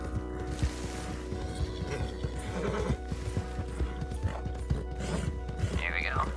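A video game horse gives a clear whinny over clip-clopping hooves, close and fairly loud, while people talk over the game sounds.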